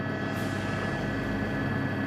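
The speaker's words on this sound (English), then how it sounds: "But first, with the helicopter overhead, Stockton and the rescuer will have to leave" Helicopter hovering overhead during a sea rescue, a steady, loud rotor drone with low engine rumble that holds constant throughout with no voices.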